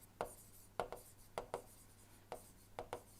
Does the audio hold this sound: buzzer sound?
no